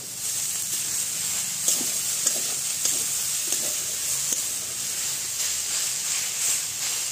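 Drumstick leaves (sajne shak) sizzle and fry in a pan, a steady close hiss broken by soft scraping stirs at irregular intervals.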